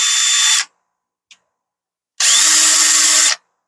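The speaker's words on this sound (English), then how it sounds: "So you can see the difference between drilling and running a screw." A cordless drill on its high-speed setting whirs in two short bursts, a brief one and then a longer one, separated by silence and a tiny click.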